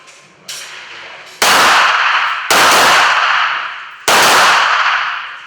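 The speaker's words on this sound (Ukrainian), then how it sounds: "Такі постріли по мішеням результат двотижневої роботи" Four sharp, loud gunshots fire at uneven intervals during police target practice, each blast ringing out with a long decaying echo.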